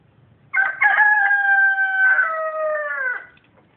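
A single long rooster crow rings out clearly, loud and close, with a rising start and a drawn-out fading end, no talking.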